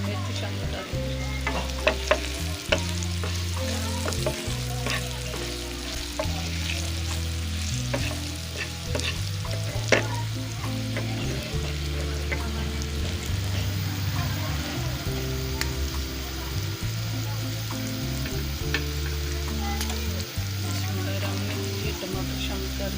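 Coriander and chili powder frying in a pan for an egg, tomato and green chili sabzi, with a continuous close sizzle and repeated scraping of a spoon stirring throughout, and no talk.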